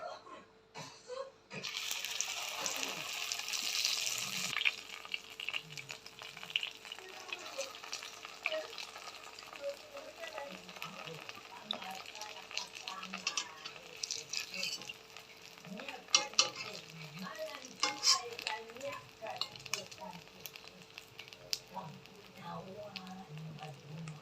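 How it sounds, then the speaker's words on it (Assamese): Bread slices for a sandwich fry in a pan, giving a soft steady sizzle with occasional stirring and scraping sounds, fairly quiet, with a brief louder hiss near the start. "এতিয়া আমি ব্ৰেড কেইখন ফ্ৰাই কৰিব লাগিব"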